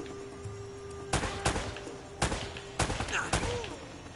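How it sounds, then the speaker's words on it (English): Gunfire in the video game Uncharted: Drake's Fortune, several sharp shots in irregular bursts over a steady game background, with a faint voice in between. "Why are you shooting at me?"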